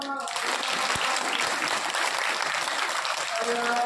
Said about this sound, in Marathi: आता बघितलं एकदा टाळ्या वाजवू करून